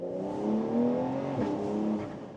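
A Porsche 911 Carrera S Convertible engine revs with the top down, a smooth rising and falling flat-six growl heard from inside the car, moderately loud and alone for a couple of seconds.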